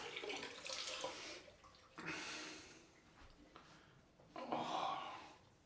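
Running water splashes during a rinse after shaving with a Gillette King C razor and Arko shave stick, arriving in several soft bursts of a few seconds each that are fairly faint and close.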